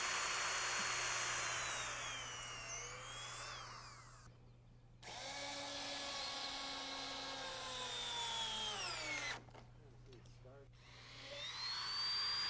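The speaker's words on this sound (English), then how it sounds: "we drill pilot holes through the decking" A power drill whines in two long runs, drilling pilot holes through wood decking, its pitch rising and falling as it bites in, with short pauses between and a steady low hum beneath.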